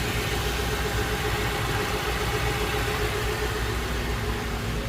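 A Ford truck's 4.6L V8 idles smoothly after a spark plug replacement, giving a steady, even rumble close by with no stumbles or speech throughout.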